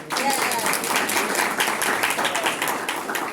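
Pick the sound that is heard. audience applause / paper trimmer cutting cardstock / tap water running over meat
audience applause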